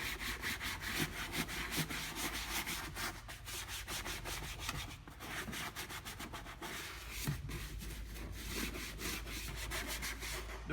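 A professional brush scrubs car leather upholstery after cleaner is sprayed on, giving close, steady, rhythmic back-and-forth rubbing strokes with brief pauses, alone without talk.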